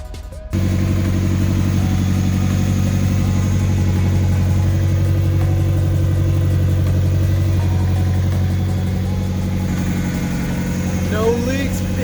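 A car engine idles steadily right after a new exhaust manifold is installed, an even, close hum that holds through without revving until a faint rise near the end.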